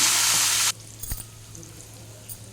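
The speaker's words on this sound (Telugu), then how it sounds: "కరివేపాకు వేసి బాగా వేగనివ్వాలి" Curry leaves hit hot oil for a pulagam offering with a loud burst of sizzle that drops off sharply after under a second. A quieter crackle and a faint knock follow.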